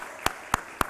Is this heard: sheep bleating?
no